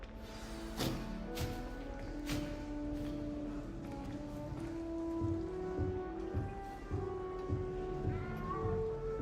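A small cat in the video game Hogwarts Legacy mews repeatedly against steady rain pattering on a surface, with faint tonal game music running underneath.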